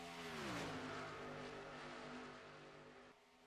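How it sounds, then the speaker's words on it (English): Sim-racing stock cars at Talladega Superspeedway drone past as a pack, a steady engine roar with a falling pitch sweep early on, then fading and cutting off near the end. "See a couple cars going high here."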